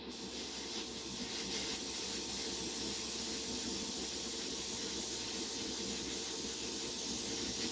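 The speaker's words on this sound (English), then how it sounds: "So I'm just going to blow it off with the airbrush." Continuous airbrush hiss spraying a wet coat of Badger Stynylrez polyurethane primer, a steady close stream of air and spray with no pauses.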